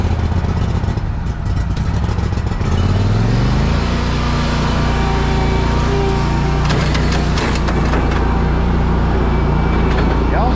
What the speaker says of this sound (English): let's ride over here where Anthony is